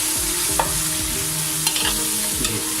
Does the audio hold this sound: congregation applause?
no